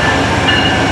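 Passenger train hauled by a P42 diesel locomotive passing through Fullerton station, a loud, steady rumble with a bright tonal whine and continuous wheel-on-rail noise, close by and filling the whole moment.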